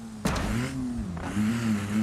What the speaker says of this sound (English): an interesting exhaust note we have got going on